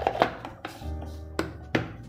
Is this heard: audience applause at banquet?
no